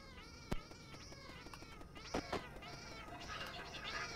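Kittens meow repeatedly in drawn-out, wavering cries, several overlapping calls close by, with a couple of sharp knocks and a steady background hiss.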